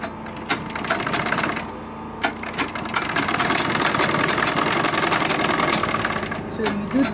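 A sewing machine top stitching a 1-inch belt onto a handmade bag runs in a fast, steady mechanical whir and clatter, pausing briefly twice between bursts of stitching, close and loud.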